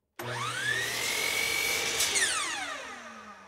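A miter saw trims a wooden stop block. The motor spins up quickly to a high, steady whine, holds for about two seconds, then winds down with a falling pitch.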